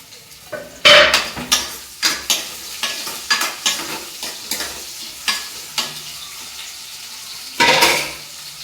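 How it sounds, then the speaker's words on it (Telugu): A tempering for dal fries in a pan with a continuous sizzle, punctuated by a regular series of loud spoon clinks and scrapes against the metal as it is stirred. "పప్పు తాలింపు కూడా వేసేస్తున్నా"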